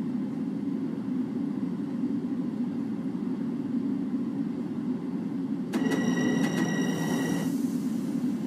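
LIRR Bombardier M7 electric train running in Train Simulator Classic, a steady low rumble of motion, joined late by a bright tonal chime or signal that stops before the end.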